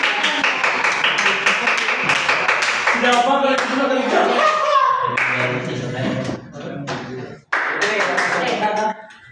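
Classroom students clapping together for a group in a reproductive health and civics lesson, a quick rhythmic burst of claps that breaks into children's and a teacher's overlapping talk.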